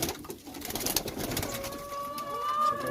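A young pigeon being handled for a pox vaccination, giving soft nearby coos and squeaky calls amid light rustling and background noise.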